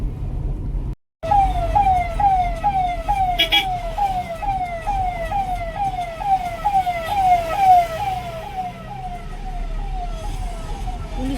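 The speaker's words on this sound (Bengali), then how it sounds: "পুলিশের গাড়ি।" A police car siren wails in a steady, repeating rising-and-falling pattern near a road, loud and continuous over rumbling traffic, with no one speaking.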